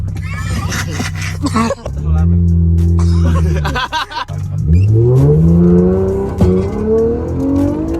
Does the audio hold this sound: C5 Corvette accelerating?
yes